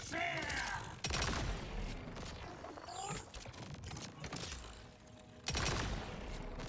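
Burst-fire sniper rifle from the video game Borderlands 4, with sharp loud bursts near the start, around the one-second mark and again late, separated by quieter busy game sound.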